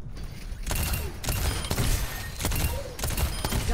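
Baptiste firing and healing in Overwatch 2, heard as continuous dense bursts of gunfire and mechanical clatter in rapid, closely spaced volleys with brief gaps between them.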